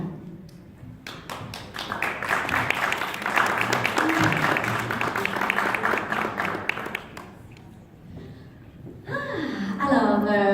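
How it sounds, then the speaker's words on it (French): Audience applause with scattered claps at a French-language community radio launch evening in Toronto, swelling into steady clapping for a board president's gift, then fading before music or voices return near the end. "Par main d'applaudissements, allez-y fort"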